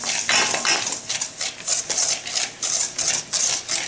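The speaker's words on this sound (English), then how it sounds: "Stirring to incorporate" A utensil stirring eggs into sweet potato pie filling in a bowl: loud, close, continuous rhythmic scraping and clinking strokes against the dish, with no voices.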